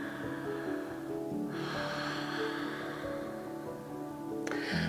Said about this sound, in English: let's hold one more deep breath